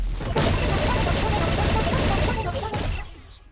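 A rapid barrage stand attack called Cleaving Barrage from a video game: a dense, loud burst of machine-gun-like punches hammering continuously for about three seconds before cutting off and fading.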